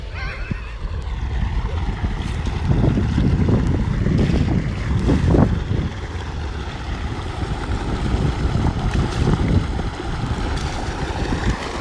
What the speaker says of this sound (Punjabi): ਆਹ ਦੇਖੋ ਜੀ ਮੋਟਰ ਚੱਲ ਰਹੀ ਹੈ